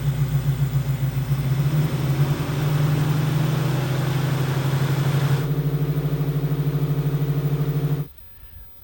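A rebuilt Ford 390 FE V8 from a 1968 Mustang runs on break-in with molybdenum top rings, idling with a steady, loping low rumble up close before it cuts off near the end.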